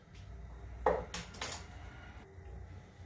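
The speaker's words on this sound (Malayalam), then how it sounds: "ഒരു കടായി സ്റ്റൗവിൽ വെച്ച് നമ്മൾ സ്റ്റൗ ഓണാക്കി കൊടുക്കുന്നു." A metal kadai is set down on a kitchen stove while pasta with chicken sausages is being cooked, giving one sharp clank of cookware followed by a couple of lighter knocks against a quiet background.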